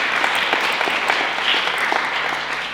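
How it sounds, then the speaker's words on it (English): A round of applause from a debate audience, steady and fairly loud throughout, with many hands clapping together and no talk over it. "So if we could all please give a round of applause."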